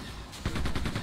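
Rapid gunfire in the video game Quake II, a burst of repeated loud shots starting partway through with a steady stuttering rhythm over a low game background rumble.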